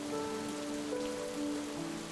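Steady rain falls in a video game dating sim, a continuous soft hiss with sustained musical tones running underneath and no voices.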